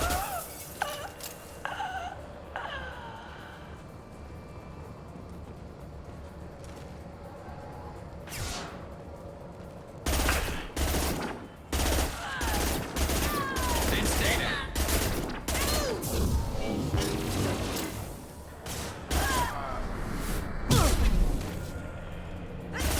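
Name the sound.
combat gunfire and concussive shot in Mass Effect 2 video game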